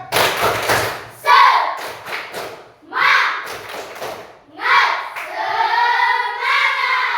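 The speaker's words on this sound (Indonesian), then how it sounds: "Sekarang tepuk semangat." An elementary class does the rhythmic 'tepuk semangat' spirit clap in a schoolyard: bursts of quick group claps and thumps alternate with children chanting together, the patterned clapping loud and close.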